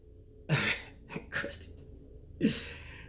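Three rough coughs, close and distinct, the middle one a quick double burst, with quiet breathing in the pauses between them.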